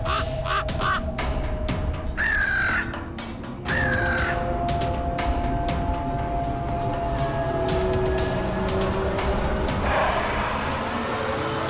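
Crows caw repeatedly in loud, harsh calls, several overlapping near and farther off, set against a steady low background rumble.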